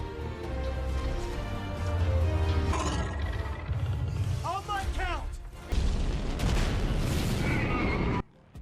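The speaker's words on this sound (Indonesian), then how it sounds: "Kemudian Striker Eureka pun meledak." Giant robot Striker Eureka blowing up in the Pacific Rim film, a sustained booming, crashing roar with rumbling low end and mechanical debris, loud throughout and cutting off abruptly near the end.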